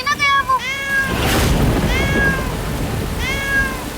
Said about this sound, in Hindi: वो सुनो, बिल्ली की आवाज।